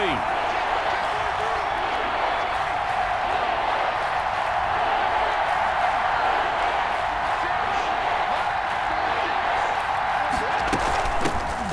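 Stadium crowd roar from a Madden football video game during a Bengals versus Chiefs playoff matchup, a steady, dense wash of cheering and noise that holds constant throughout at high level.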